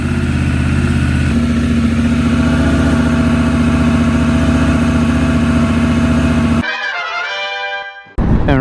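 A motorcycle engine idles steadily and loudly close by on a very cold day before an off-road ride. Near the end it revs and pulls away, and its sound briefly dips.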